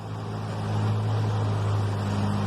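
Heavy mining equipment climbing a haul road, its engine giving a deep, loud, continuous labored drone with a strong low hum and broadband roar, steady throughout.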